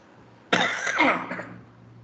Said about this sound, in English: some cough problem is happening